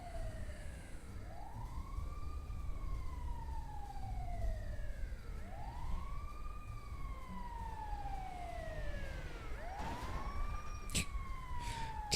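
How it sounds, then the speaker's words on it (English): An emergency vehicle siren in a video game wails in slow rising and falling sweeps, three full cycles over a constant low engine rumble, with a sharp extra yelp tone near the end. "You can hear the siren."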